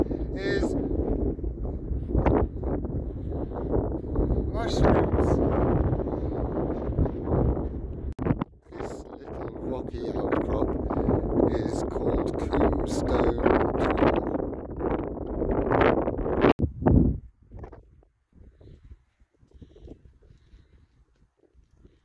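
Strong wind buffets an open hillside above the tree line where gorse thins out, a loud continuous roar with gusts across the microphone, under someone talking, dropping off sharply near the end.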